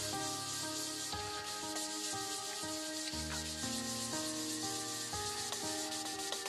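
A cloth rubs stain into an 11-inch sycamore bowl, giving a steady close scuffing friction against a strong tonal drone of background music.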